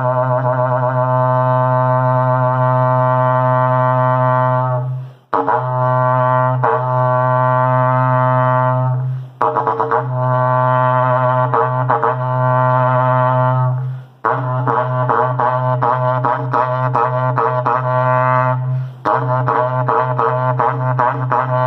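Professional horseshoe-style berrante cattle horn blown in a deep, low tone, four long, loud sustained blasts separated by brief pauses for breath.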